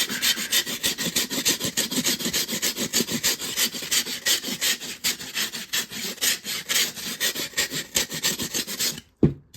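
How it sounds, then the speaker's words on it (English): Hand sanding of a bass fish mold with coarse 60 grit sandpaper, a loud rhythmic back-and-forth rasping in quick even strokes, close up, ending with a sharp knock. "we're going to do that with some 60 grit sandpaper"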